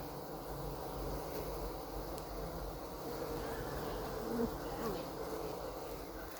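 A bee buzzes steadily up close, a continuous low drone with faint outdoor ambience and no talk.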